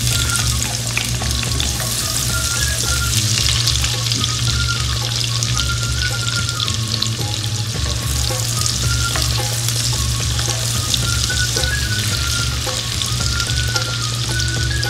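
Chopped onion sizzles steadily in a hot pan for tom yum, with a spatula scraping and stirring at an irregular rhythm. The sound is close and continuous, with no talking.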